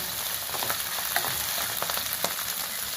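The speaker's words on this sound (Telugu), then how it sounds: "బాగా వేగాలి, పచ్చివాసన పోయేంత వరకు." Onions frying in a pan while cooking Andhra fish curry, with a steady close sizzle and a few brief stirring clicks throughout.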